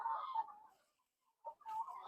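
A Rhode Island Red laying hen of about 1.5 kg clucks and warbles nearby in two short bursts separated by a brief pause, with no talking.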